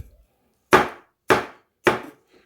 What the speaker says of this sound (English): All right, an apple. Let's see, we'll get a nice thin slice down.